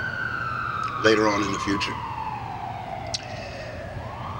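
A distant emergency siren wails in a long, slowly falling tone under steady background hum, while someone speaks briefly over it.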